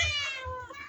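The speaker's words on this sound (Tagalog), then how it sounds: "At meron din kaming alagang pusa." A single drawn-out meow from a pet cat kept caged indoors during the rainy season, fairly close and clear, lasting just under a second.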